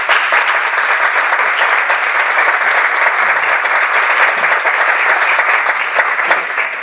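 An audience at a round-table discussion on public education in the region claps steadily for about seven seconds, a dense, even applause heard up close with no talking.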